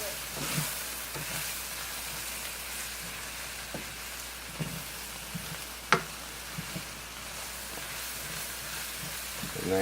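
Sausage and mushrooms sizzle in a pan during a Cajun chicken and rice dish, a soft steady frying hiss with occasional light clicks and scrapes of stirring, faint and close, with no talk.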